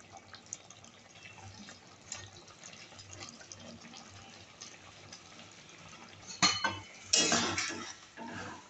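Utensil scraping and clinking in a pan of puti fish curry with chopped coriander leaves, soft continuous stirring with a louder burst of clatter near the end, no voices.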